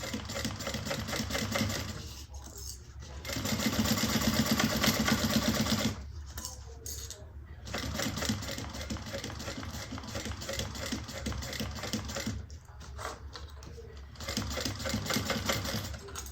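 A sewing machine runs in steady, close bursts while stitching curved seams on a fabric bag. Its whirring motor stops briefly between passes and restarts, with no talk heard.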